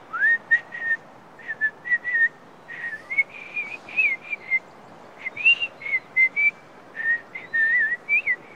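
A person whistles a series of short, rising and wavering notes in a broken melodic phrase, clear and close against a quiet background.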